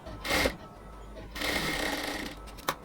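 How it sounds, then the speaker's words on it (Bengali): Sewing machine stitching around the neckline of a blouse, a brief whir followed by a longer steady run and a small clunk at the end, close up and alone. "একদম পুরো গলার চারপাশে হচ্ছে আমরা সেলাই করে নিচ্ছি আগে"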